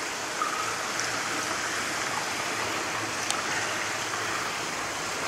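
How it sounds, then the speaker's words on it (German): A lakeside water-feature fountain splashes across the water of the Sorpesee, a steady, broad rushing wash heard from a distance, continuous and even, with no voices. "das Wasserspiel auf der gegenüberliegenden Seite finde ich auch nicht so übel"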